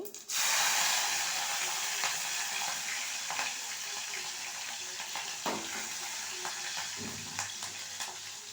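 Green chillies frying with cumin and mustard seeds in a hot pan for a brinjal and potato curry, a steady loud sizzle throughout with occasional crackles and stirring scrapes, no talk.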